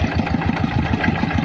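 A tractor engine runs steadily in a rice paddy during rice transplanting, its close, continuous mid-low chug pulsing in a regular rhythm without any speech.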